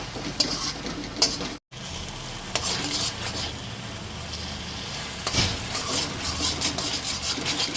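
Onions sautéing and being stirred in a pan over low heat for spicy Indian-style egg pasta, a steady sizzle with scraping stir strokes and light utensil clinks, close and continuous with one brief break.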